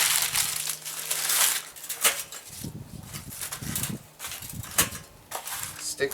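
Paper is crumpled by hand before it is stuffed under a charcoal chimney for lighting a grill. Close, crisp crinkling and crushing in irregular bursts runs throughout, with brief pauses.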